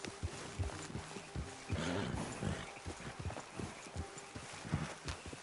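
Horse hooves clip-clop at a steady walking rhythm in a video game, several animals' footfalls overlapping in distinct, moderately close knocks over a faint background.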